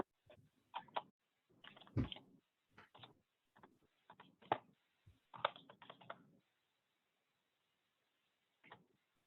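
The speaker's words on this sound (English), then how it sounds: "And then start typing." Clattering keystrokes on a computer keyboard come in quick bursts with short pauses between them, near and fairly soft in an otherwise quiet room, with no voices.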